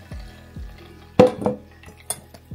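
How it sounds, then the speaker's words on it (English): A spoon presses blended ginger and lemon pulp through a metal strainer, giving a few soft wet squelches and then sharp scraping clinks of metal against mesh. "use a spoon to get all the juice out. Just press it through like this."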